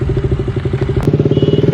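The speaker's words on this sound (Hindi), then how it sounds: "तो भाई वो मेरी बाइक का कुछ चला के देख रहे हैं।" A modified Yamaha R15 V3 motorcycle runs close by with a loud, pulsing, throaty exhaust beat, its rhythmic chugging steady and slightly quickening.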